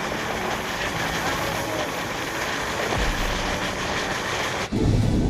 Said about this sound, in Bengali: পুরো ট্রেনের সামনে পজিশনটা দেখুন, পাহাড়ের এভাবে ট্যানেলের মধ্যে দিয়ে ঢুকে যাচ্ছে।